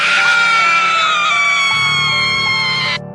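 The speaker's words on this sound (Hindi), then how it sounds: "और उसके बाद वो बुढ़िया अचानक से चिल्लाई" An old woman screams loudly and close, one sustained shrill, wavering cry lasting about three seconds before it cuts off abruptly. No one speaks.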